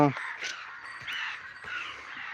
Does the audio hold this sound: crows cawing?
yes